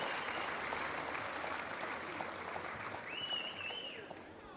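An audience at a Calédonie Ensemble political congress in New Caledonia applauds in a steady, distant wash of clapping that fades slightly toward the end, with a thin whistle-like tone near the close.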